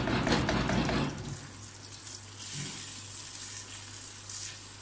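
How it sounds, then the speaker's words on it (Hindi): Milk hits a pot of cooking white chicken biryani, first with a louder splashing sizzle, then settling into a soft, steady simmering hiss, close and fairly quiet. "अभी मैं डालूंगी इसमें दूध 1 कप।"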